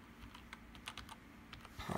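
A password is typed on a Mac keyboard: a quick run of soft, close key taps over about two seconds, ending in a slightly louder press.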